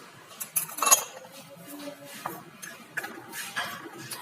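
Gram flour (besan) roasting in a hot kadai, with a metal spoon scraping and clinking against the pan in irregular light strokes over a faint background.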